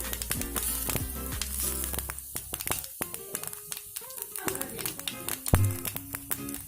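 Cumin seeds fry in hot refined oil in a pan with a close, crackling sizzle and quick pops. Utensils tap and stir against the pan, and a voice talks over the cooking.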